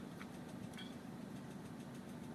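A car engine runs at a steady mid-pitched drone as the driver sets off, a continuous close rumble with faint rattles and no voices.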